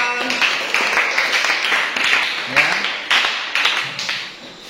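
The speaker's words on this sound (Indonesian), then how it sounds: "Oke, tepuk tangan untuk kelompok A." Students in a grade eight social studies class debate applaud group A, a close, lively patter of many hands clapping in uneven bursts that swell and ease over several seconds.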